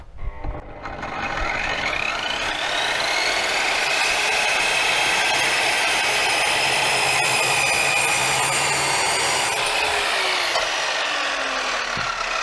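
A GTM miter saw running at maximum speed cuts through a piece of wood, giving a loud, steady whining roar with a cutting rasp that holds for about twelve seconds, close up and with no talking.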